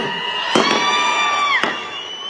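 Crowd at an outdoor election rally for a Mahayuti candidate cheering and whistling, with a steady roar and a few sharp bursts of claps, loud and close throughout.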